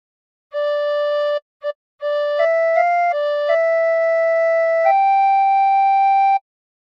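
A single tin whistle plays the slow, simple hymn tune "What a Friend We Have in Jesus" in clear held notes with short breaks, pure and steady, close and alone.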